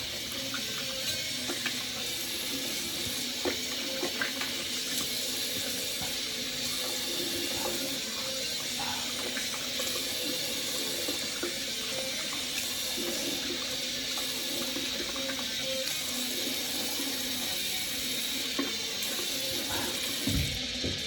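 Water running steadily from a bathroom tap into a sink while rinsing during a straight razor shave, a continuous close splashing flow with small handling knocks and no speech.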